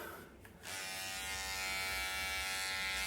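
An electric shaver buzzes steadily and close up as it shaves hair off a head, starting after a brief quieter moment and then holding a constant, loud drone.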